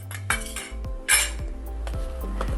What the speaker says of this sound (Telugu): అన్నీ బాగా కలుపుకోవాలి.